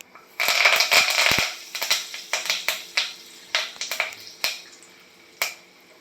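Fresh curry leaves, about fifteen to twenty, hit hot tempering oil with asafoetida and turmeric and crackle sharply, starting as a dense sputter and then breaking into separate pops that thin out toward the end.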